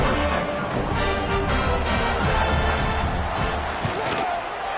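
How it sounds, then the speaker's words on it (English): A college football stadium crowd in a video game buzzes in a steady, dense roar after a score, loud and continuous with no clear voices standing out. "this crowd is buzzing after that last score"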